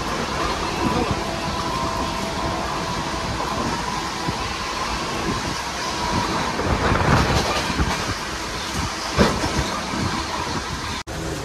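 Steady rumble of the Jan Shatabdi Express running on rails between Jajpur Keonjhar Road and Jakhapura, heard from inside a coach with continuous wheel and track noise and faint clatter throughout.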